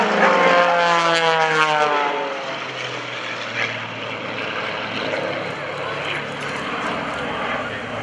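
Propeller aerobatic airplanes loop and roll at the 2014 Greenwood Lake Airshow, their loud engine drone sweeping down in pitch as they pass, then settling into a steady roar while an announcer talks over it.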